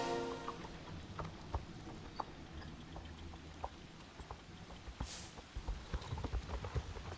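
Horse hooves clip-clop at a steady walking rhythm in the Star Stable video game, with crisp, moderately loud hoof strikes over a soft ambient background.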